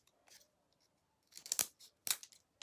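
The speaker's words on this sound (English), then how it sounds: "We're going to go ahead and cut this shim." A thin wooden shim is snipped with scissors-like cutters in a few close, crisp bursts, with quiet gaps between cuts and no talk.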